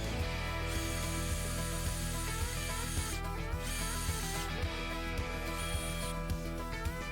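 A power drill drives a 7/8 inch bore bit into a pressure-treated 4x4 piece of lumber, giving a steady, fairly quiet motor whine with a regular ticking pulse throughout and no talking.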